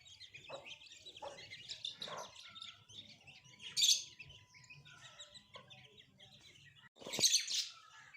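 Scattered high-pitched cheeps from about 16 or 17 young chicks, a few louder peeping bursts among softer chirps, close and fairly quiet.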